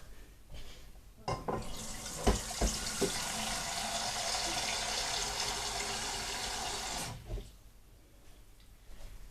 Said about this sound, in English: Then I'm going to pour some water in here and then get that boiling.